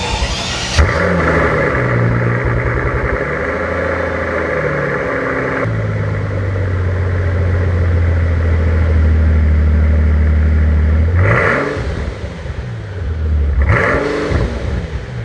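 Stock-exhaust Mercedes AMG bi-turbo V12 roars loudly and close up, dropping to a deep idle rumble before two sharp revs climb and fall again near the end.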